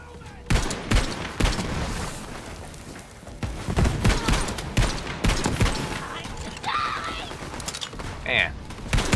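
Rapid bursts of gunfire ring out in Borderlands 3, loud repeated shots in clusters with short gaps, mixed with game effects and a brief spoken remark near the end.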